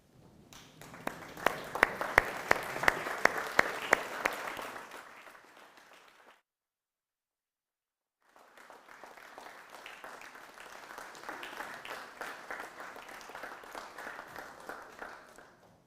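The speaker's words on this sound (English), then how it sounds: "let's give them a round of applause" A diploma ceremony audience applauds the graduates' families in a hall, a sustained, fairly quiet wash of many hands that fades out, pauses, then swells back in at a similar level.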